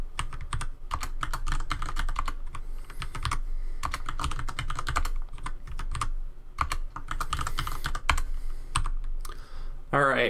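Rapid, steady typing on a computer keyboard fills nearly all of it, with dense clacking bursts separated by brief pauses, close and clear, while setting up world generation in Dwarf Fortress.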